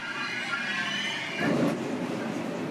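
A New York subway train rumbles steadily through the underground, a continuous metallic roar that swells briefly midway, with no talk.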